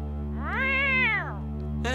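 A cartoon cat gives a single drawn-out meow that rises and falls in pitch, clear and close over a steady background hum, with no talking.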